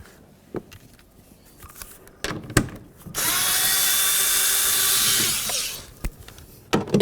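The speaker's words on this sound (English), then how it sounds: "We're going to start removing all these 10 millimeter headed bolts." Power tool, likely an impact driver or drill, running out 10 mm headed bolts from a 2008-2012 Jeep Liberty door during window regulator replacement: a loud sustained whir of about two seconds, framed by clicks, clunks and handling noises.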